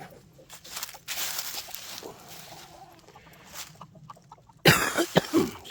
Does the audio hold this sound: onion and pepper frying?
no